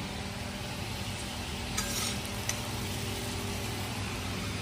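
Food frying hot in a pan in a home kitchen, a steady broadband sizzle running through the whole stretch with a couple of brief brighter crackles near the middle, close and fairly loud.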